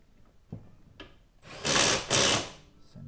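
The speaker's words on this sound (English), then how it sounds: "Get our electric impact gun here." Electric impact gun tightening brake caliper bolts on a Suzuki Reno front disc brake, a couple of faint clicks and then two loud buzzing rattling bursts close up.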